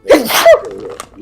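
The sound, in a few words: sneeze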